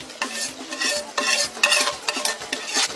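Coconut milk is stirred into sautéed garlic in a pan, making a run of brisk, close scraping and swishing strokes with short pauses between them, alone without talk.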